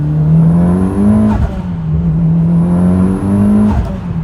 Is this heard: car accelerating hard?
yes